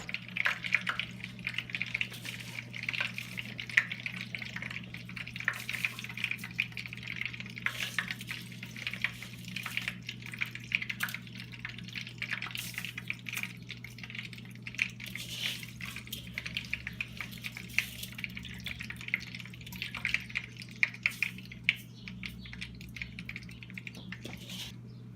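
Rice pours into a pot of boiling water for Haitian rice and beans, giving a busy, crackling patter of grains hitting the surface over a steady low bubbling hum, close and continuous for a long stretch with no talking.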